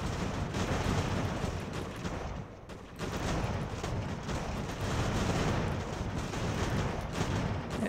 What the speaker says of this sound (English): I'm gonna try to get both of these guys to shoot at Percy